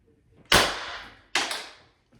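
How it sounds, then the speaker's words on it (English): Shots from a Pistelle X.68 paintball marker with a new comp barrel, two sharp loud pops close by, each followed by a brief fading hiss. "Going with the first shot with our new and improved comp barrel."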